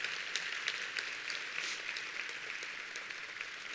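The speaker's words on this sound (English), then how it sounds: "Let's give our healthcare heroes in this room and across Kentucky a big round of applause" A room of people applauds healthcare heroes at an annual awards night, a dense, continuous patter of many hands clapping at steady volume throughout, with no voices over it.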